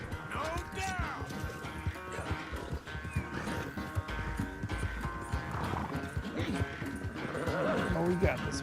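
A horse gallops in Red Dead Redemption 2 with rhythmic clip-clop hoofbeats and an occasional whinny, running continuously beneath game sounds and character talk.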